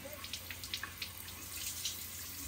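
A bathroom tap runs steadily as a girl washes her face, a soft continuous hiss of water with faint splashes, heard quietly and fairly close.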